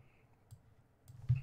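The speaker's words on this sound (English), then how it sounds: "Man, I fail at typing." Keyboard typing at a computer, a few soft scattered clicks in a quiet room with a slightly louder cluster of keystrokes near the end.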